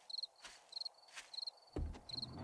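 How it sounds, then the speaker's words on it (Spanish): Crickets chirp in the video game 7 Days to Die, faint high trills arriving in short regular bursts. A brief low thud sounds near the end, and no one talks. "ya se está escuchando los grillos"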